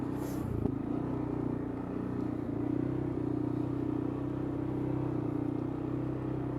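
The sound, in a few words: CF Moto CForce touring ATV downhill engine braking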